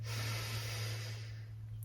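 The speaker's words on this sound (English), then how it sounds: "Breathing in through the nose." One slow, soft breath drawn in through the nose during a morning yoga session, a faint airy hiss over a low steady hum, with no talking.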